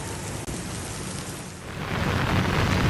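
Heavy rain pouring onto a flooded Jakarta street, a dense, continuous hiss of downpour that swells louder toward the end, with no talk.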